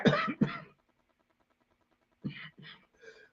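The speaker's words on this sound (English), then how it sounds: "sorry about the cough" Two sharp coughs up close, a pause of near silence, then two or three more softer coughs, with no talking.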